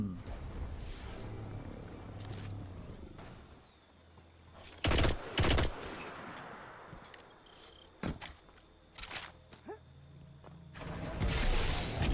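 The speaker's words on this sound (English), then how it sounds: "I'm gonna try this new pulse rifle" Pulse rifle fire in Destiny 2 comes as a few short, loud bursts of several rapid shots, with quieter game ambience and faint effects between them.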